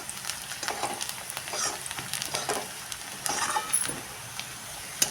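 Onion and urad dal sautéing in a pan, a steady sizzle with frequent scraping stirs and light metallic clinks throughout.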